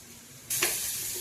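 After a quiet moment, onions for a country chicken fry hit hot oil with a sudden loud sizzle that settles into a steady, bright hiss.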